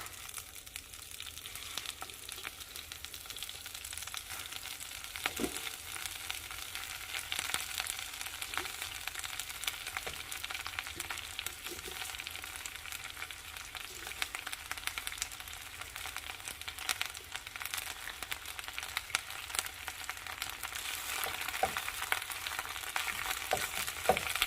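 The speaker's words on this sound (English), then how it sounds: "I'm adding some olive oil, and I'm going to just saute and wilt down all of this fresh baby spinach." Fresh baby spinach wilts in olive oil in a preheated pan, giving a continuous crackling sizzle with scattered small pops over a long stretch, fairly close and with no voices.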